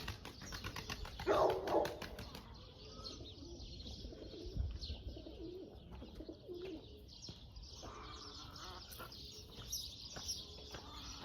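Pigeons cooing near an opened coop, a close burst of low coos followed by scattered chirps and distant birds against outdoor background noise.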